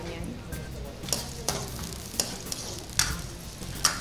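Onion sizzles gently in hot cooking oil in a pan over medium heat, with a soft steady crackle and a few scattered stirring clicks, close and fairly quiet, no speech.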